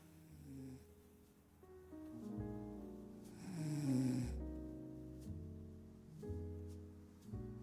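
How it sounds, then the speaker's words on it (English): A dog snores steadily through a long stretch of slow, deep, rumbling breaths, each drawn-out snore rising and fading at close range with no other sound. "snoring dog."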